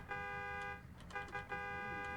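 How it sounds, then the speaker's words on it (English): In the video game Just Cause 3, a vehicle horn blares in long sustained honks, the first held and then two more after a short gap, loud and close. "You're supposed to get in the vehicle when I honk the horn."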